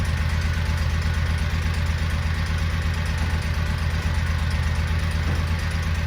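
A Kawasaki motorcycle engine runs at a steady idle up close, a continuous low rumble with even pulsing and no talk.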